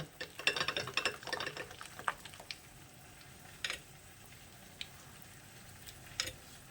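Hand beating of a thick fritter batter in a bowl, with soft irregular slaps and scrapes that fade after the first few seconds.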